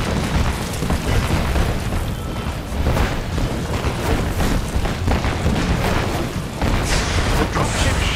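Enemy artillery shells burst around Iron Man in Marvel's Avengers, a loud barrage of deep booms pounding in quick succession, with brief dips and renewed impacts throughout.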